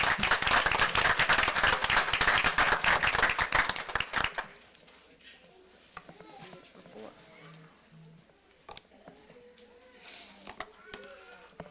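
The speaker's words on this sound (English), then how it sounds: "Can we give these wonderful students another round of applause?" Parents and attendees applaud students at a school board meeting, a loud burst of dense clapping for about four seconds that cuts off abruptly, followed by scattered claps and people talking in a quieter room.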